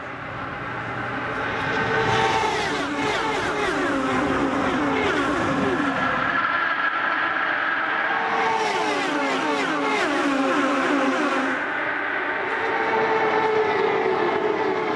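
IndyCars at a green-flag restart in the 2010 Roadrunner Turbo Indy 300 scream past in loud waves, engine pitch sweeping up and down through two big pulses of high-revving noise over a steady rumble.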